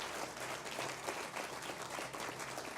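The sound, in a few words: audience applause at a groundbreaking ceremony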